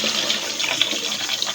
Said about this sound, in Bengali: পানিটা বালতি থুইয়া দিই